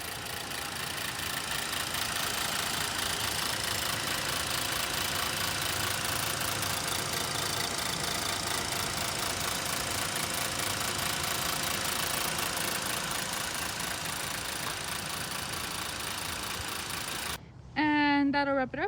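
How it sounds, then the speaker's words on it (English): A 2021 Ford Transit Connect's 2-liter GDI four-cylinder gasoline engine idles steadily with a continuous mechanical hum and ticking for most of the duration, then cuts off abruptly near the end. "please take a quick look at our 2-liter GDI I-4 gasoline engine"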